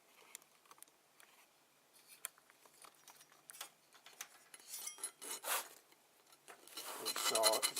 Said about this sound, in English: basically I'm just going to rub